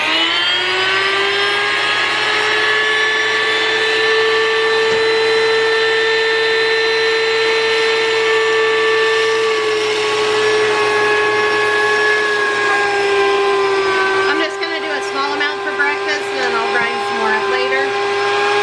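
Electric grain mill grinding soft white wheat berries, a steady loud whining hum that holds for the full length and shifts pitch near the end, with no talk.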